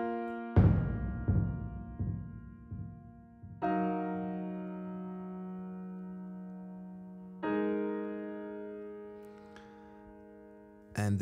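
Sparse, calm music segment of low intensity from psai adaptive game music, with a few soft, resonant struck-note chords ringing out and decaying slowly, spaced several seconds apart, quiet and without speech.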